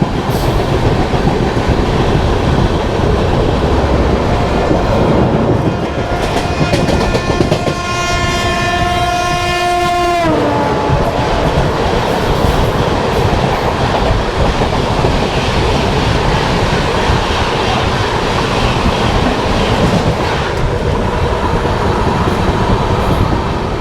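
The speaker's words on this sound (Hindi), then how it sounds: "ये जो ट्रेन अभी आप लोगों ने देखी दोस्तों, ये थी नंदा देवी एक्सप्रेस" Nanda Devi Express, a passenger train running between Kota and Dehradun, rumbles steadily past on the track with loud continuous wheel and carriage noise; a long, blaring horn sounds partway through.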